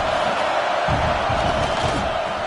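Crowd noise at a college football stadium during a game against Oregon, a dense, steady roar with a rumbling surge of noise partway through, loud and continuous.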